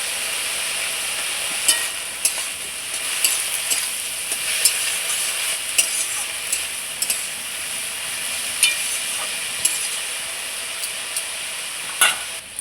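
Dheki saag greens fry in oil in a pan, giving a steady close sizzle and hiss with scattered sharp knocks and scrapes as a spatula stirs them at irregular intervals.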